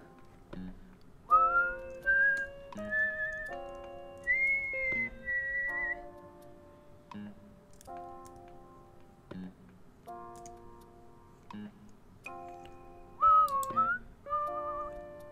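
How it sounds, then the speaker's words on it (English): Cheerful melodic whistling from a character in the video game Animal Crossing, a clear tune of sustained and sliding notes over soft ticking game music, with no talking. "whistling in Animal Crossing."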